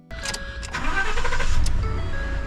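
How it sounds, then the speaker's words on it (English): A 2014 Ford F150 pickup's engine cranks and starts with a newly programmed key. A short starter whir leads into a steady, close, moderately loud idle, with no talking. "the keys will start the car"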